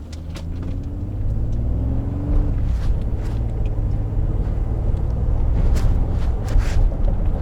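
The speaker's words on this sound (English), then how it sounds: "I'm gonna accelerate, and we'll see what the transmission does." A Ford F-Series pickup truck accelerates on a roadside, its engine rumbling low and steady with a rising note and shifting gears, heard from inside the cab with faint clicks.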